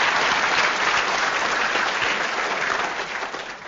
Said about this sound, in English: A round of applause for our speakers.